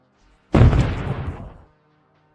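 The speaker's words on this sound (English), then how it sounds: "The explosion shakes the tank violently, causing one of the tracks to come loose and completely disabling the engine." A tank rolls over an anti-tank mine on a damaged stretch of road and sets it off: one sudden, loud, heavy blast with a deep boom that rumbles and crackles for about a second before cutting off into silence.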